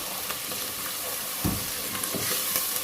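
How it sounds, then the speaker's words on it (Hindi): Spices with crushed chillies, salt and red chilli powder frying for palak masoor daal, a dense steady sizzle with a few muffled stirring thumps, close and alone without talk. "ये सारा इसमें चला जाएगा और इसको इस मसाले को हमें भूनना है"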